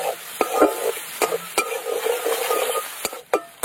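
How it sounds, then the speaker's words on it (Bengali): Chopped onions with salt frying in oil, a steady soft sizzle broken by sharp scrapes and clicks of a spoon stirring the pan, close by, no voices. "পেঁয়াজটা ভালো করে কিন্তু এরকম লাল করে ভাজতে হবে।"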